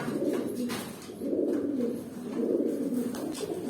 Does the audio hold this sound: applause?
no